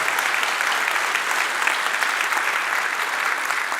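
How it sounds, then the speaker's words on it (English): A seminar audience at FlightSimExpo in Las Vegas bursts into dense, steady applause, a continuous crackle of many hands clapping in a large hall with no voices over it. "let's give ourselves a big round of applause for that"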